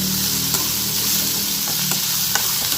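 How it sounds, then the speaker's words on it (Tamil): Onions sauté in a pan for paneer butter masala, a constant close sizzle with a few soft stirring scrapes and taps, no voices. "சரி நல்லா வதங்கட்டும் வெங்காயம்"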